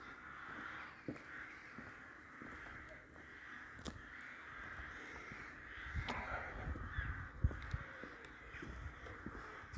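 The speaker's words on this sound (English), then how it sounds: "Rooks over there above the trees making a bit of a noise." Rooks above trees near a village cawing repeatedly from a distance over steady outdoor background noise, with occasional low thumps and rustles nearby.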